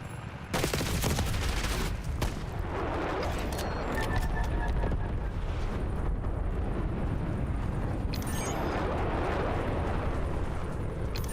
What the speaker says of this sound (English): Get some napalm on my target.